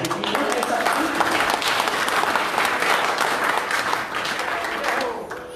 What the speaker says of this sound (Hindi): सभी ने इनको तालियों से धन्यवाद दिया